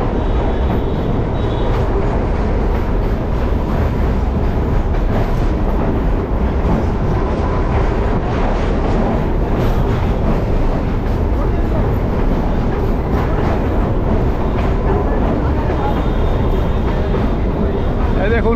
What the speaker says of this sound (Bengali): ট্রেন টানবে, ট্রেন টানবে।